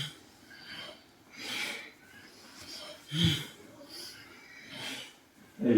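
Ujjayi Pranayama yoga breathing: slow, audible breaths repeating in a steady cycle of about five pulls and releases, close and soft, with a hushed, throaty quality and no talk.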